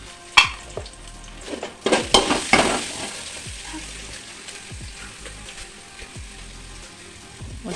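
Ginger and garlic sizzling in hot oil in a pan, with a spatula scraping and stirring against the metal in a few sharp clattering bursts over a steady crackling fry, with no talking.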